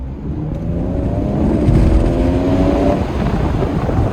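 Steady low roar of wind and road noise inside a moving 2021 Ford Edge ST, constant and fairly loud with no voices or exhaust noise.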